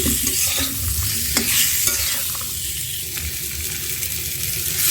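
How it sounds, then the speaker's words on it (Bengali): Raw mango pieces fry in a hot pan, a close, steady sizzle with light scraping clicks as they are stirred, holding even loudness throughout. "কিছুক্ষণ আমটা ভেজে নিচ্ছি"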